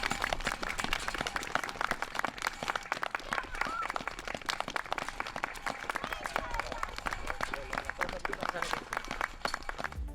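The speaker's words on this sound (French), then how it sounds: "C'est parti, on applaudit!" Faint, steady applause from a municipal council group at a small-children's week event in Bonaventure, with dense overlapping claps running unbroken for about ten seconds.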